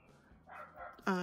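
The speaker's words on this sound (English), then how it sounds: "So sorry about my dogs." A dog barks once, loud and close, at the end of a short stretch of quiet indoor talk during a papercraft mini album session.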